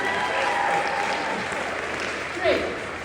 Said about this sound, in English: by sound of applause, a round of applause